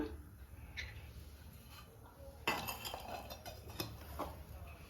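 A pan set down on a stove with a clank, followed by oil poured in while preparing a South Indian chicken fry gravy; a sharp metallic knock midway, then light clinks and a soft pour over a low steady hum.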